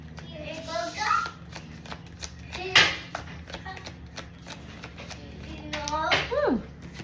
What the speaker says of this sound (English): And I saw this twice as I was shuffling.